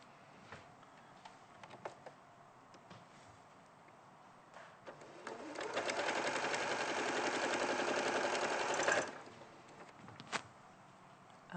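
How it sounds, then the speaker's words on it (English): A sewing machine chain pieces fabric triangles, first with scattered handling clicks and taps, then a close steady whirring run of about three seconds before fading back to quiet bumps. "So I'm going to sew that one to that, and I'm going to sew that triangle to that one."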